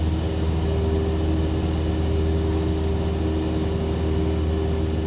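Steady propeller drone of a small plane in flight near Stillwater, heard from inside the cabin, with a constant low hum and tonal bands, loud and unbroken, no talk.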